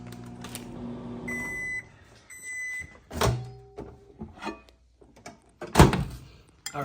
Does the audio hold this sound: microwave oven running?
yes